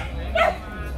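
A H'Mong bobtail dog gives a single short, sharp bark at a Vietnamese dog show, heard close against crowd chatter and voices.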